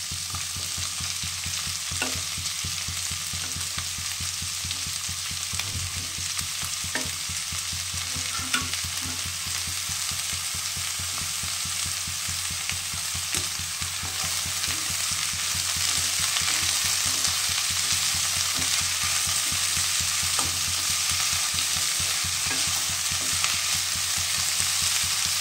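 Potatoes and flat beans fry in a pan with a continuous, even sizzle and occasional stirring scrapes, close and steady throughout, with no talking.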